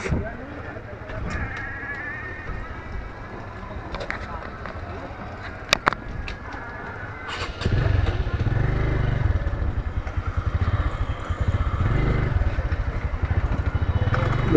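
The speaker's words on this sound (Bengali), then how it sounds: "এই গাড়িটা চালাবো আজকে আমার নানুর বাইক" A TVS motorcycle engine idles and then revs up into a steady running drone, with clicks and a person talking over it.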